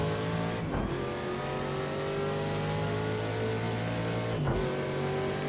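A Ford Mustang GTD race car circulating Sonoma Raceway, its engine droning loud and steady from onboard, with two brief shift dips where the pitch drops and climbs again.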